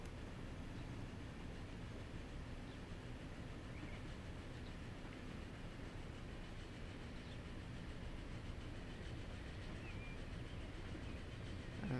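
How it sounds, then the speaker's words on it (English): A train rolls along a branch line in a railway-building game, heard as a steady, low, distant rumble with faint rail noise that holds for the whole stretch and has no speech over it. "There's another train in the distance there."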